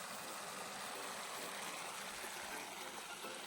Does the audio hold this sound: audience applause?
no